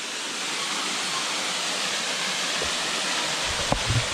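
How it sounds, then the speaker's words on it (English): Waterfall at Ricketts Glen State Park roaring as a steady, broad hiss of falling water, constant and fairly close, with a few small knocks near the end. "even though it doesn't look like much water is trickling down, the sound of it still roars"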